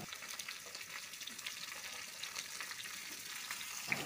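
Capsicum, onion and chili sizzle faintly in oil as they are stirred in a pan, a soft steady crackle with light scrapes throughout.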